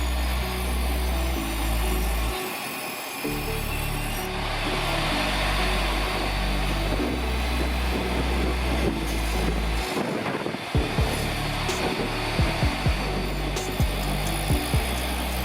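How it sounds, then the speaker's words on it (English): A table saw runs steadily and loudly while 2x4 boards are trimmed to length, its motor hum pausing briefly at times and ending with several sharp cutting knocks near the close. "I could trim them down to their final 12-inch length with the table saw."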